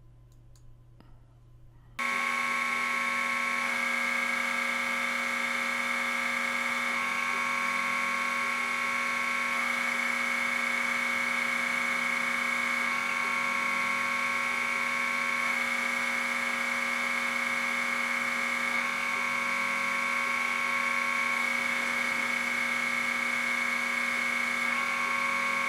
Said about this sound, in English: All you have to do is turn on the spindle and hit cycle start.